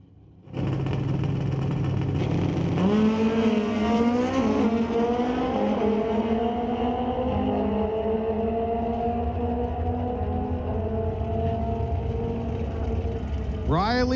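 At Mission Raceway during an NHRA drag race, a 2017 Kawasaki and a 2002 Kawasaki launch down the strip. Their engines roar loudly and steadily, and the pitch climbs through the gears for the whole run.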